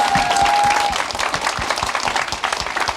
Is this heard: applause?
yes